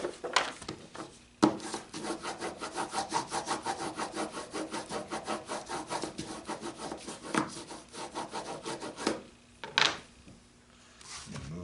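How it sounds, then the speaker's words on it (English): Wood on a lidded box is burnished with rapid back-and-forth rubbing strokes, a steady rhythmic scraping that pauses briefly a few times, with a couple of sharp knocks near the end. "Get that down and burnish that."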